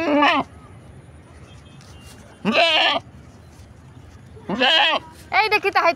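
Goats bleat close by in several short, loud calls separated by pauses, with three or four distinct cries in all.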